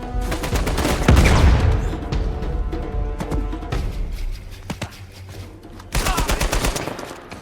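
Bursts of automatic gunfire and single shots from the video game Uncharted 4, loud and dense at first, thinning into scattered shots before a fresh rapid volley near the end, with game music underneath.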